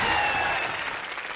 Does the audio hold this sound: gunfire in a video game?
no